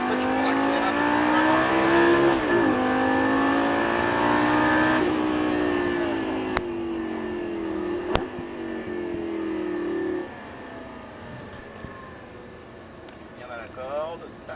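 Lamborghini LP560-4 on a track during a driving course, engine note rising and falling through acceleration and shifts, heard from inside under an instructor talking almost throughout.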